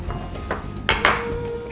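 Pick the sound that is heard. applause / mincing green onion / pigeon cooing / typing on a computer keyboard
mincing green onion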